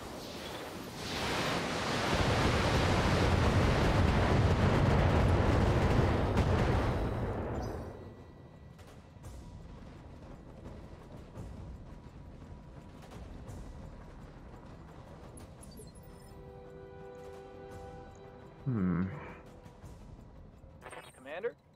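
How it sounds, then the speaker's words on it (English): A BattleTech mech fires all its weapons at once, a loud sustained roaring barrage lasting several seconds before dropping away to quieter scattered impacts and tones. "Firing all weapons."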